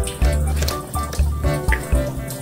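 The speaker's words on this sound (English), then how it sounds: "can't believe I had the water in the background the whole time" Water running steadily from a kitchen tap during salad preparation, a continuous splashing rush with irregular clatter and thuds over it, close and fairly loud.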